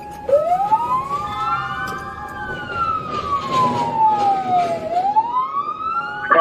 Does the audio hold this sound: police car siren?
yes